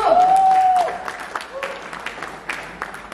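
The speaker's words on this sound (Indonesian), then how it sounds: "Tepuk tangan dulu yang meriah untuk kedua narasumber kita." Audience applause at a university small-business event, starting loud and then thinning into scattered claps while a voice speaks over it.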